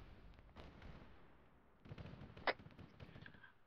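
Gunfire and grenade blasts in a military shooter video game, heard as distant, muffled rumbling shots and thuds with one sharper crack, faint and low overall, without voices.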